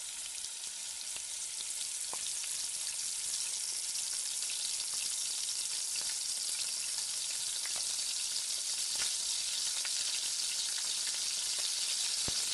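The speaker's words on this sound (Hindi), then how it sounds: "4 से 5 अदद साबित लाल मिर्च, 1 टीस्पून साबित ज़ीरा और हरी मिर्चें हस्बे ज़ायका, जितना आपको हरी मिर्चें रखनी है। अब हम इनको करेंगे अच्छी तरीके से फ्राई।" Whole red chillies, cumin seeds and green chillies fry in hot oil for a tempering poured over eggplant raita, giving a steady, close sizzle with scattered small crackles and no talking throughout.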